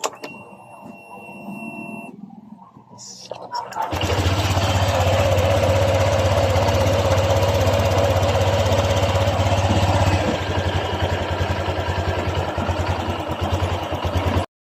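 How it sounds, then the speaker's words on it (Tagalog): A Honda Click 125 fi scooter engine, freshly overhauled with a new connecting rod, sputters briefly after a quiet stretch, then settles into a loud, steady idle that runs on evenly for about ten seconds before easing slightly. "ito naman ang tunog ng kanyang makina guys pagkatapos natin siyang ma-overhaul. Pakinggan nyo."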